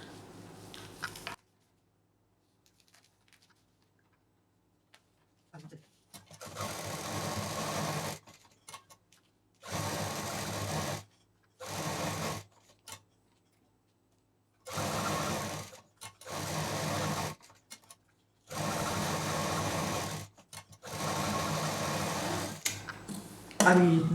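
A sewing machine stitches around a party purse in several short, close, whirring bursts separated by pauses and quiet stretches.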